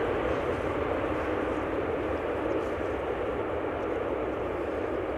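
Airliner landing at Amsterdam Schiphol with its thrust reversers deployed at idle, a steady broad roar of engine and rushing air that holds constant and fairly loud throughout, with no sharp spool-up.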